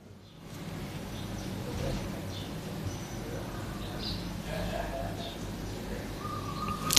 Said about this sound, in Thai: เสียงนกกิ๊บจิ๊บเข้ามานะเมื่อกี้ครับ